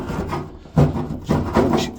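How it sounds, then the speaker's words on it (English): An old chisel scraping rust off car metal in a few rough, rasping strokes, each a short loud scrape separated by brief pauses. "Just scrape it with an old chisel."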